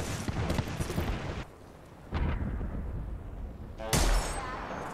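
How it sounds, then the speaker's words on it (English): Apex Legends gunfire in a firefight: dense bursts of shots and impacts come in loud waves with a brief lull in the middle, the game's combat noise filling the whole stretch. "They're getting shot at from over there."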